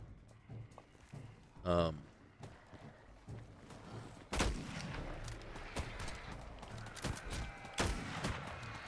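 Sharp gunshots in the post-apocalyptic game Fallout 4, heavily modded, with a few loud isolated reports against quieter footsteps and ambient game noise, while a player talks over it.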